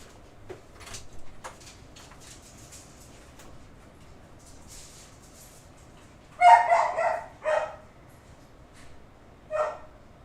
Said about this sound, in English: I'm gonna let this dog outside.